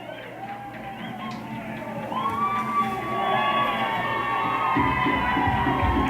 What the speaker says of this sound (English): Crowd really getting fired up